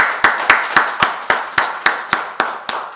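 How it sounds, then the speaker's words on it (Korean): A church congregation at a New Year special dawn service claps in unison, a crisp, evenly spaced beat of about eleven sharp claps, each one ringing briefly in the hall before the next. "우리 하나님께 영광의 박수 올리겠습니다."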